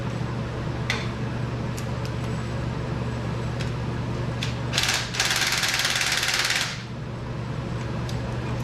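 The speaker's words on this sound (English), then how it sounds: "I have this impact on the lowest setting here." Impact wrench set to its lowest setting loosening engine bracket bolts on a Buick Electra 225, a short burst of rattling hammering after a few clicks, close and moderately loud.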